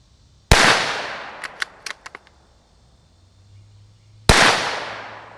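A Savage 17 rifle is fired unsuppressed: two loud, sharp cracks about four seconds apart with a decaying ring after each, and a quick series of metallic clicks from the action between them.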